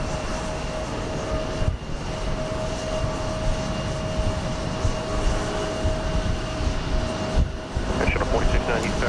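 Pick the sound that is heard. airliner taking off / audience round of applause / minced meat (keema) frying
airliner taking off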